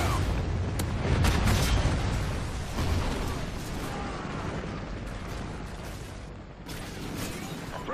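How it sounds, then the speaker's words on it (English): Trinity rocket strike in a video game: a heavy, rumbling explosion and its rolling boom dominate, with smaller bursts and crackles following under a dense battlefield din. "Friendly Trinity rocket inbound."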